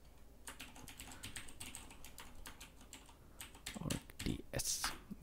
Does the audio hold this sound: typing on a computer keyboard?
yes